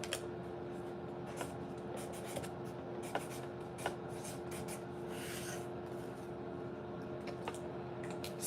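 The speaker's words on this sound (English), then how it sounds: "write down who we're dealing with." Handwritten notes being jotted down, a quiet steady scratch and rub of pen on paper with small taps, close and faint, with no talking.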